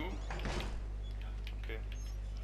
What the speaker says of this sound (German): Okay, Tür zu.